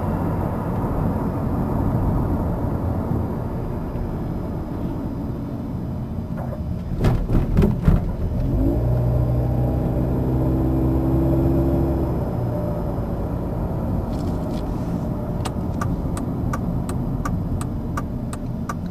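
A modified car engine idles, then revs up sharply and settles back, with a whooshing intake rush as it climbs; the idle continues after, with a few faint ticks near the end.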